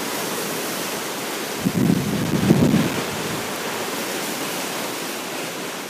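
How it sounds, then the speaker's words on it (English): Gusty hurricane wind from Hurricane Irma roars steadily and close, with a stronger low gust swelling midway before settling back into a constant rushing blast. "That's some gusty stuff."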